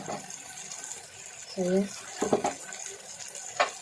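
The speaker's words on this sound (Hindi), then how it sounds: "इसमें पानी मैंने साफ़ सुथरा डाला हुआ है" Water is poured into a cooking pan of red chili and other spices while making moong dal bariyan. The splashing pour is soft and comes in brief bursts, partly under a woman's speech.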